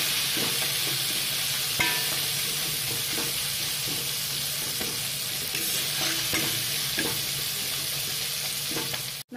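Tomatoes sautéing with rock salt in a pan while making a Tamil nookal chops dish: a steady close sizzle and frying hiss, broken by repeated scraping stirs and light clinks of the spatula, with no talking.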